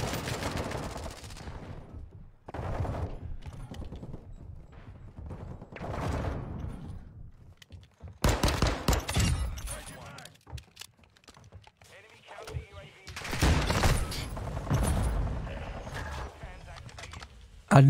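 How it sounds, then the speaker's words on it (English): Gun reloading and gunfire in a video game, with clicking reload mechanics and bursts of shots in several loud stretches, mixed with a person talking. "I literally just cannot stop reloading my gun."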